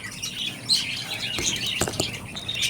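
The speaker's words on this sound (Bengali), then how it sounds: "এখানে আমার বদ্রি পাখিগুলো খাচ্ছে" Pet budgerigars feeding chirp and squawk close by, with short bright calls and a few sharp clicks scattered across a brief stretch, no talk.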